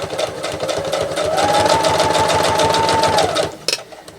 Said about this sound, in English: I am still going to stay stitch this.